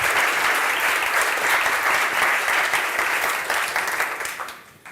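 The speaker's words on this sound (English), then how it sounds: "I would like to give a big round of applause for everyone who made this possible." Loud, dense applause fills the room at a behavioral science summit in Madrid, a crowd clapping steadily before it tapers off toward the end.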